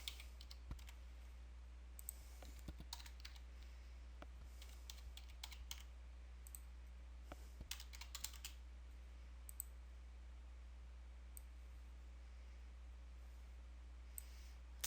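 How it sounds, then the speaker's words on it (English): Quiet typing on a computer keyboard: irregular bursts of soft, clicky keystrokes over a low steady hum, with occasional pauses between groups of key presses. "And so I will type in the function."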